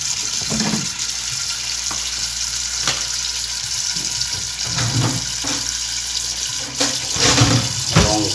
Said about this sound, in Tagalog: Tapos, lagyan na ng sabaw.